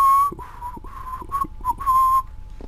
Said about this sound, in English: I'm still trying to learn to whistle.